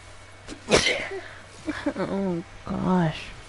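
A single sharp sneeze bursts out close to the microphone early on, during a Warframe gaming session, followed by a few moments of a voice speaking.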